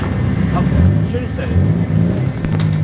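A stock Ford AU Falcon on fresh tyres runs loud and close for a drifting session, its engine droning steadily with rough low rumble and small rises in revs throughout, and a voice talking over the engine.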